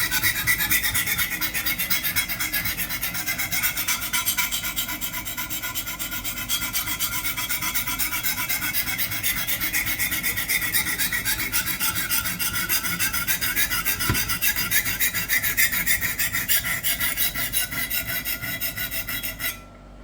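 A kitchen knife is stroked steadily against a sharpening stone, a continuous close rasping scrape with a rapid back-and-forth rhythm that runs almost without pause.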